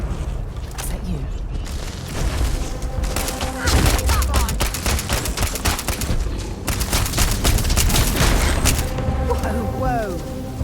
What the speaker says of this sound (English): What the hell are you firing at?